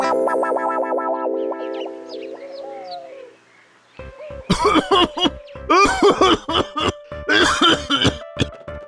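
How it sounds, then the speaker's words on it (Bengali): A series of harsh, dry coughs in quick bursts, close and loud, following a stretch of distorted, warbling sound effects. "শুধু শুধু শুকনো কাশি শুরু হয়ে গেল"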